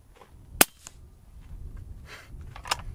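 Subsonic .308 rifle fired through a suppressor into dirt, heard as one dull, sharp puff like a compressed-air blast, followed by a couple of softer thuds, outdoors and close.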